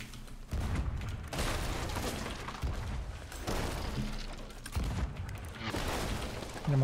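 Heavy booming cannon shots from a sloop in Sea of Thieves, several blasts spaced a second or so apart over a constant rumbling, with creaking and splashing from high waves mixed in.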